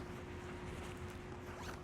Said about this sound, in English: We'll zip it up.